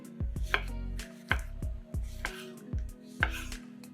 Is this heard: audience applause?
no